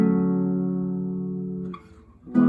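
Guitar playing a short phrase of the Legend of Zelda: Ocarina of Time main title theme, a held chord ringing out and fading, then a fresh note struck at the end.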